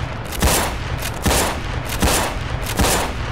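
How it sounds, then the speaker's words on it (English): Friendly fire in Left 4 Dead 2: four loud, evenly spaced bursts of gunfire, each a short volley of overlapping shots, close and harsh with no talking. "Shooting each other."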